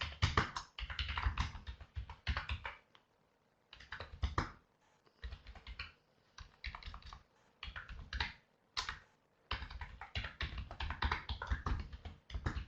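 Someone types on a computer keyboard in quick bursts of rapid clicking keystrokes separated by short pauses, close and fairly quiet, with no talking.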